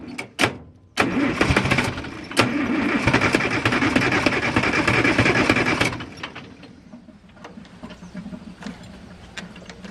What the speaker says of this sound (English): thing turns over nice